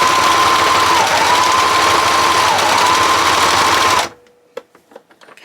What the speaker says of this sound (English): I've just popped this piece under the foot, and I'm just going to sew straight down this line